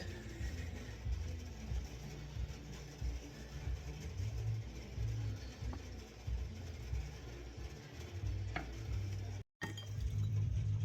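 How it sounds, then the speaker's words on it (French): Spinach and cheese tartlet mixture being stirred: a faint, steady scraping and swirling with a few light clinks, continuing without a break for several seconds. "Continuez à mélanger."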